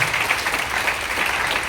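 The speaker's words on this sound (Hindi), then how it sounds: "तो एक जोरदार ताली होना चाहिए अरविंद भैया के लिए।" An audience at a motivational speech event bursts into loud, dense applause for Arvind bhaiya, a steady clapping roar that fills the short moment.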